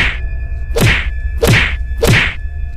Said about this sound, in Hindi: एयर होस्टेस गुल्ली को पटक पटक कर मारने लगती है